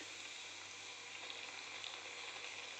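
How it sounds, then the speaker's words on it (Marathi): Potato patties deep frying in oil over a medium flame, a faint, even, continuous bubbling sizzle with no stirring or other sounds. "फ्रेंड्स, बघताय आपले पॅटीस चांगले डीप फ्राय होत आहेत."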